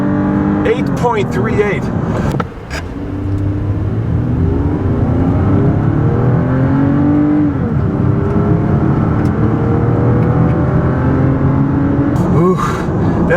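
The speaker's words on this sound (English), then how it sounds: "So I'm just gonna floor it. There we go, good takeoff." A Lexus launches from a standing start at full throttle, its engine climbing through rising gear sweeps with brief dips at shifts, loud and close, while someone talks over it and a clattering burst comes near the start and end.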